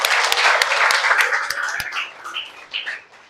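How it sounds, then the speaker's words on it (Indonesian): A group of school students claps for a classmate, the applause dense at first, then thinning and fading out over a few seconds as a few voices rise briefly. "Tepuk tangan untuk kakak ini."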